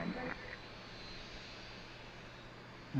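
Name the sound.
airplane on runway at Harrisburg International Airport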